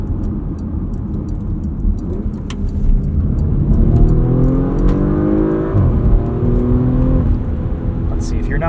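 A 2022 Porsche Macan S engine pulls steadily through a couple of corners, a continuous mid-level drone with rising and falling revs heard from inside the cabin, with a voice talking over it.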